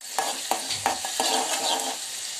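Onion hits hot oil in a cooking pot, bursting into a steady crackling sizzle with a few sharp clinks of a stirring spoon against the pot, close and alone.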